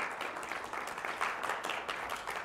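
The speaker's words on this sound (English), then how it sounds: "And I thank you for clapping" Audience clapping during an interview event, a steady, dense patter of many hands applauding without pause, at moderate level and with no voices over it.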